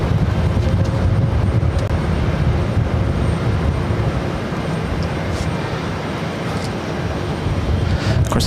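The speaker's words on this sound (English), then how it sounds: "This is Air France 334 coming in from Paris." Air France Airbus A340-600 arriving at Boston, a steady broad engine roar that stays loud and continuous throughout, with no talk over it.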